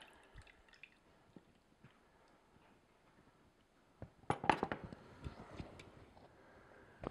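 Thick raspberry juice drips from a tipped tabletop mini juice press into a container. The quiet drips are scattered and sparse, followed by a brief cluster of sharper glassy clinks and splashes, with no talking.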